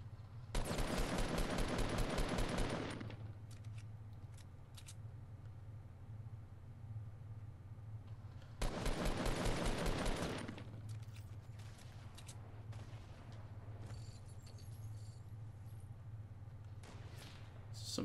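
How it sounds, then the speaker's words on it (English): Gunfire in the video game Fortnite, heard as two long, dense bursts of rapid shots, each lasting a few seconds, loud and close over a steady game background hum, with quieter pops between them. "Somebody is sniping at me."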